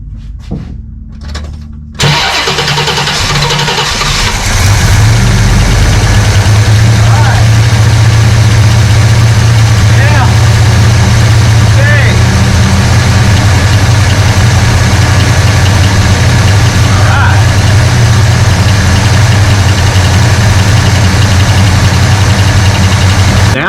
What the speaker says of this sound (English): I'm going to hit starter again, see if it fires back up on the fast idle